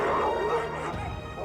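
Dogs bark in a brief burst during a tense scene from a CID crime drama episode, a couple of quick yapping barks close by over a low background.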